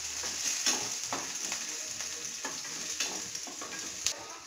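Onion fries in a pan for a radish and egg dish, giving a steady bright sizzle with repeated soft scrapes and taps of stirring throughout.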